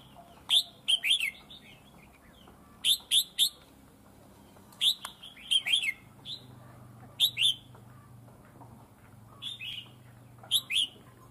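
Red-whiskered bulbuls singing outdoors, with short bright chirping phrases in clustered bursts separated by pauses, moderately close over a quiet background.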